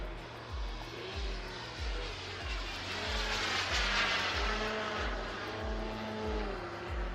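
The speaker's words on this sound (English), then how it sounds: "And Eurofighter's circling it, as well as the drone" A model Eurofighter jet flies at a wing show, a steady whining engine roar that swells and fades gently as it passes overhead, with a repeating low rhythmic thump beneath it.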